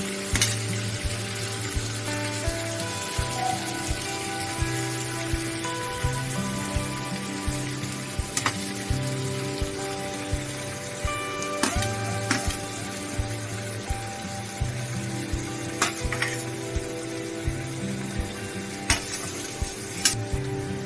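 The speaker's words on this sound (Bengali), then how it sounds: "আলুগুলোকে আর পেঁপেগুলোকে সমানভাবে নাড়াচাড়া করে ঢাকা দিয়ে দেবো।" Grated green papaya and potatoes frying in a pan and being stirred, a steady close sizzle with scattered clinks and scrapes from the utensil throughout, no voices.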